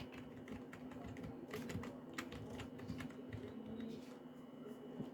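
Numpad keys are tapped on a modded Langtu membrane keyboard in a fast, uneven run of soft clicks. The sound is faint and close, with a steady low hum underneath.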